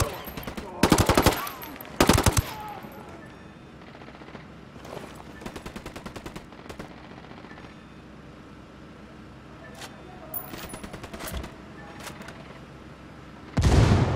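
Gunfire in Tom Clancy's Ghost Recon Wildlands: loud rapid automatic bursts and single shots over a low rumbling background, some near and sharp, others fainter in the distance.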